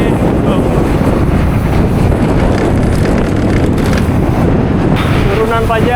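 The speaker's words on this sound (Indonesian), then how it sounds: "Anginnya kencang banget. Asli, berat keluar angin." Heavy, continuous wind rumble batters the microphone on a road-bike ride from Bandung toward Jakarta, a dense roar lasting the whole stretch with brief hints of a voice near the end.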